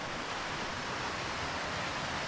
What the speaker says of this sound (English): See the river stream running below